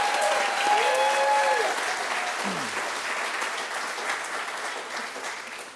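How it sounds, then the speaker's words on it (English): An audience at a school auction gala claps for an alumna from the class of '92, a steady, even round of applause with brief voices and tones over the start. "we should give Katie Konechny, class of '92, a round of applause"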